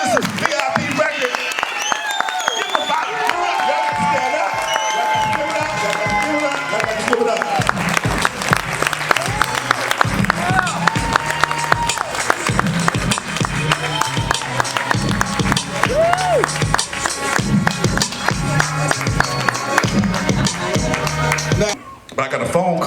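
Audience applauding at a lifetime achievement award presentation, long, dense clapping with scattered cheers while people talk and music plays underneath.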